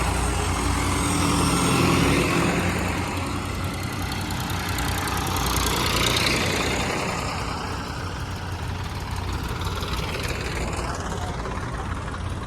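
Heavy tractor engines idle in a steady, rumbling drone that swells slightly and fades, with faint voices mixed into the background.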